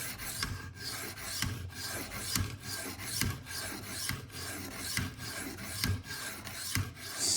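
A CPM-10V steel Spyderco Paramilitary 2 knife blade is drawn across a sharpening stone in quick, even back-and-forth strokes, a rhythmic, quiet, close scraping with no voices.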